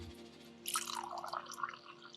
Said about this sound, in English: Take a listen. Pour it in the glass.